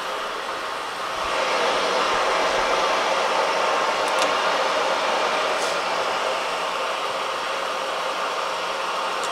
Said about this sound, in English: we'll go ahead and start it up. It's a geared head lathe.